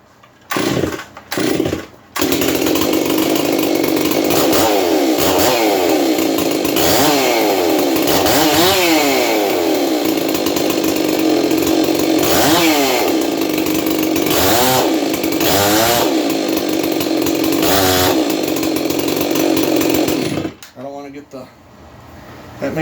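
A gas chainsaw is started and run with its chain brake engaged, loading the clutch; the engine sputters on after a few pulls, then drones loudly with repeated revving surges before cutting off, with someone talking near the end.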